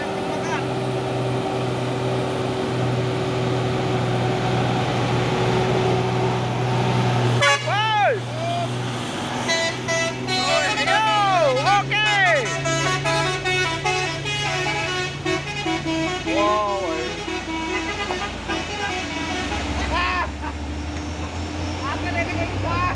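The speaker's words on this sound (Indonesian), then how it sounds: "masuk lagi ya truk Hino box ini" Hino box trucks grind uphill on a steep climb with heavy engine drone, while several horns toot and blare in a series of bright honks over the middle stretch, joined by other passing traffic.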